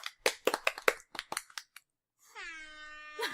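Hand claps ring out in a quick irregular run of about a dozen sharp slaps, followed by silence and then a sustained tonal horn-like sound.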